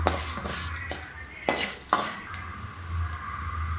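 Urad dal being stirred and roasted in a pan, with a soft dry sizzle under sharp scrapes and clinks of a spoon against metal, a few distinct strokes over a few seconds.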